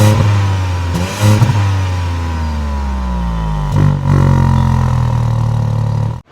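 Tata Altroz Racer hatchback exhaust revving, close and loud, with a quick blip of the throttle then a sustained rev that slowly falls, a second blip, and a sharp cut-off at the end.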